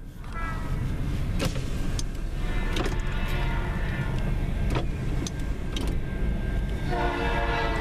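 A northbound CN freight train led by an EMD locomotive rolls past in Ladysmith, a loud, close rumble of wheels and cars with the air horn sounding in short blasts, no talking.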